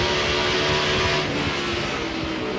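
Elliott Sadler's stock car engine drones in a steady, loud roar during a caution period at a NASCAR race, pitch holding fairly level with only slight shifts as the throttle changes.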